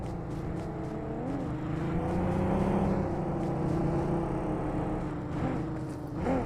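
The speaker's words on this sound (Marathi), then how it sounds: "150 मीटरला साऊंड येतो माहिती गाडीचा" A vehicle engine drones steadily nearby in a video game, a continuous moderately loud hum that swells slightly as if approaching, then eases off.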